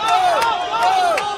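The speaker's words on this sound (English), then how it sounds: "Crowds getting behind them." Spectators at a schools rugby league match between Ananda College and D.S Senanayake College chant and cheer in a rising, rhythmic swell of voices, loud and close.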